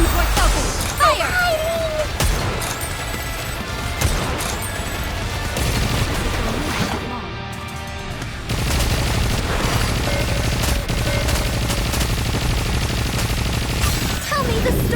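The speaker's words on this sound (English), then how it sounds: "All gun ports open! Fire!" Cannon fire bursts from open gun ports in the video game Goddess of Victory NIKKE, a dense barrage of rapid shots and crashes over music, briefly dipping before the volley resumes loud and continuous.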